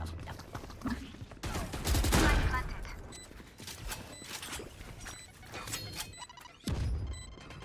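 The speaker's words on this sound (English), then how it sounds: "Grenade is live. That got him." Video game firefight with a grenade explosion and bursts of gunfire, loud cracks and a heavy blast in the middle, scattered shots throughout amid game clutter.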